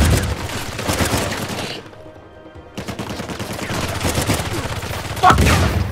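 Rapid, dense bursts of gunfire from a firefight in Uncharted 4, including sniper and enemy guns, loud and near, with a brief lull partway through before the shooting resumes and a sharp blast near the end.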